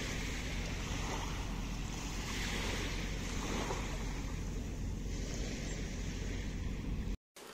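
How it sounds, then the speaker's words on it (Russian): Sea waves wash continuously onto a beach in Spain, with a broad surging hiss and some wind buffeting the microphone, heard alone with no talk. "Смотрите, какое море шикарное."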